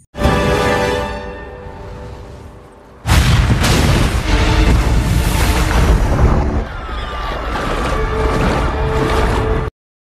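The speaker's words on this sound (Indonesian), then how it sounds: "Jack pun berinisiatif untuk meledakkan mercusuar yang ada di sana" A lighthouse blown up in a film, heard as a loud deep boom followed by a long roaring, rumbling blast that sustains for several seconds and then cuts off abruptly.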